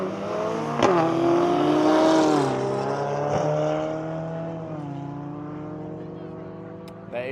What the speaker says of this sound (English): We've got a Mercedes-Benz A45S and the Subaru coming up to the lines